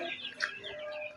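Meat chickens on a small farm cluck softly, with a few faint, brief calls over a quiet background.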